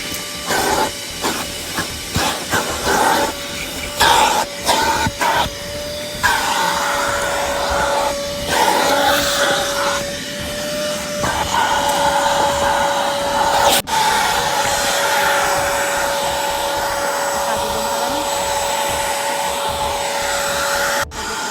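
A vacuum cleaner at a car wash runs loud and close with a steady airy whine and hiss, broken by brief stops and bumps early on before settling into a continuous drone.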